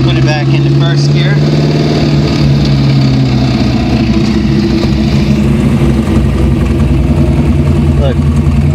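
A car fitted with a TMP venturiless carburetor pulls in first gear, engine droning loud and steady with a rising hum, as someone talks over it.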